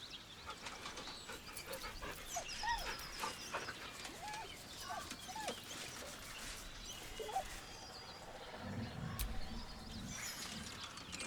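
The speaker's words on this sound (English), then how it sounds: "The dog whimpers nervously, as if to urge you on." A dog in the video game Baldur's Gate 3 whimpers and pants nervously in rapid, breathy bursts, heard moderately close over a soft outdoor ambience with faint birds and rustling.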